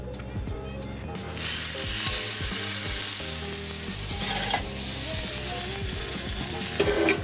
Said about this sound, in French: on va colorer notre boulette dans une poêle avec un mélange de beurre et d'huile d'olive